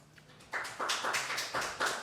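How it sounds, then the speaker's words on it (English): A small audience at a Cape Charles town council meeting breaks into brief applause, a short burst of quick, fairly quiet claps heard alone. "Please keep your applause to yourself."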